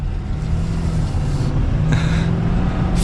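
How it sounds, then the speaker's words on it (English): A 2022 Ford F450 Platinum 4x4 truck accelerating gently at well under quarter throttle, a steady low engine drone that builds smoothly and stays close, with no talking. "Not even quarter throttle, just a nice gradual acceleration."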